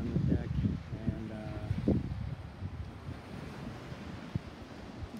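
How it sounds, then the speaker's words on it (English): Wind gusting across an open roof deck on a converted bus, a rushing roar in the microphone that swells and fades, with someone talking briefly early on. "It's windy right now."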